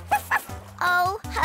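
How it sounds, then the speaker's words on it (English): A cartoon dog barks at the seashore in a children's animation, giving a few short yips and bow-wows in quick succession, close and clear, with a character's voice talking around them. "Herbie, what are you barking at?"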